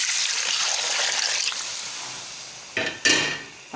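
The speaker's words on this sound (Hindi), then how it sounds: "और अब मैं इसमें शामिल करूँगी पानी।" Water being poured into a pot of fried mung dal, a hissing sizzle and gurgle that gradually fades, followed by a couple of sharp clanks of utensils against the pot near the end.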